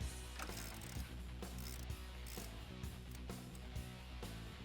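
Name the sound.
hand ratchet loosening a control arm bolt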